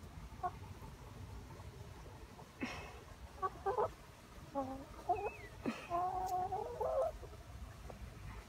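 Chickens cluck and squawk in soft irregular bursts inside a chicken coop while it is mucked out, close but fairly quiet, with scattered rustling and no talk.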